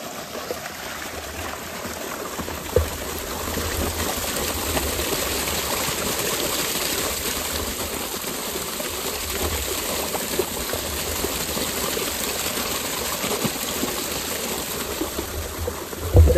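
Irrigation water on a farm pours from a pipe in a steady, close rushing flow that holds at an even level throughout, with no talk.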